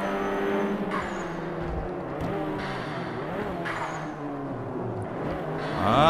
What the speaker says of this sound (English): This engine sounds ridiculous. There's like a really high-pitched...